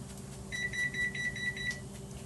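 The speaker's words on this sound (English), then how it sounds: "Oven is preheated." A kitchen oven beeps to signal it has finished preheating: a quick series of about eight short, clear electronic beeps, fairly faint over a low room hum.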